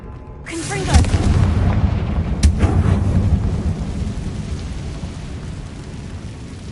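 Confringo blasting spells in the video game Hogwarts Legacy set off loud booming explosions, a heavy rumbling blast near the start and a second crack a little later, trailing into a long debris-like roar with voices over it.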